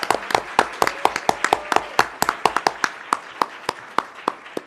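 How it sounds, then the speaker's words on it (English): Light, scattered applause for newly appointed school staff at a school board workshop: separate, crisp claps from a small group, fairly quiet and irregular, with no talking over them. "If we could give the appointees another round of applause"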